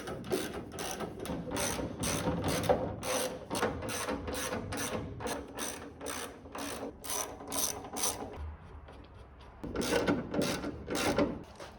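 A ratchet tightens engine mount bolts with quick rhythmic clicking strokes, close and fairly quiet, running in a steady series, pausing briefly, then resuming.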